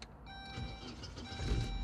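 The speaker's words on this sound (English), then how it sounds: "if you put the key in down here, I think I just need to put my foot on the brake and we will start her up" A 1999 Saab 9-3 2.0t SE automatic starts up: faint electronic tones at first, then a low engine rumble swells near the end of the short moment, with no talk.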